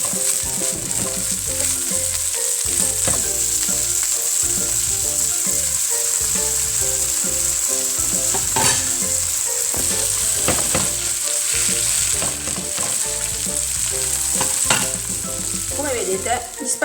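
Spaghetti all'assassina, the Bari-style dish, fry hard in a pan with a steady, dense sizzle and crackle throughout, punctuated by occasional scraping stirs and louder spits, close and continuous with no talk.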